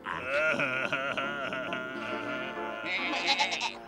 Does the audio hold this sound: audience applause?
no